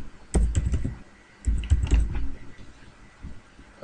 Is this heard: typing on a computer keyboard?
yes